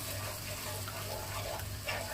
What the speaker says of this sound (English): Some water. Because we want to create some sauce for the chicken.